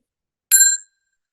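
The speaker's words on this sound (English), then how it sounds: "I'm going to ring a bell" A single meditation bell struck once, a clear bright ding that rings briefly and fades quickly into silence.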